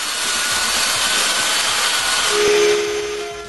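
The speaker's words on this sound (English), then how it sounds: "Now it's time to sand all the frills and the pencil marks." Power sander working over wooden clamp rack pieces, a steady loud whirring grind with gritty rasping that holds evenly throughout, swelling slightly near the end.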